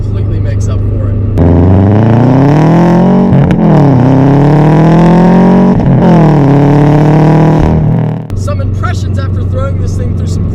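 Modified 2007 Subaru WRX with boosted engine revving hard in repeated rising and falling pulls, loud and close, with a steadier idle-like drone before and after.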